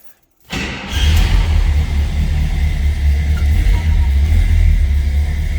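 A 1972 Cadillac Eldorado engine cranks and catches after a brief quiet moment, then settles into a loud, steady, deep rumbling idle that continues without a break.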